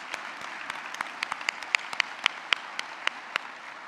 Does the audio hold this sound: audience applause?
yes